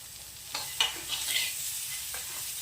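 Onions fry in a pan for a paneer palak dish, giving a soft, faint sizzle with a few light stirring knocks.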